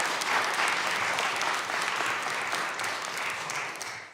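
Audience clapping at a congressional subcommittee hearing room, a steady wash of many hands applauding at moderate loudness, slowly tapering toward the end with no speech.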